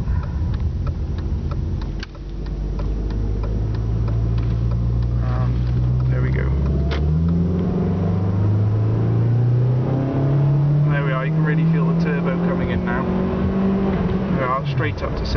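A Rover 75 1.8 Turbo accelerates hard from traffic lights, its engine note rising steadily through the revs with a gear change partway, loud and close from inside the car.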